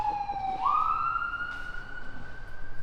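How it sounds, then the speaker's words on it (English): An emergency vehicle siren winds up from a low pitch into a steady, sustained wail on a neighborhood street in Saint Anthony Park, Saint Paul. It rises over faint traffic hum and stays clear and fairly close to the end. "I'm gonna wait for the siren."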